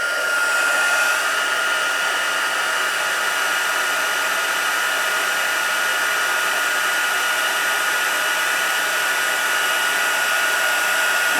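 A heat tool blows steadily and loudly to melt embossing powder on a stamped snow dome Christmas card, a continuous hair-dryer-like whoosh with no breaks and no talking.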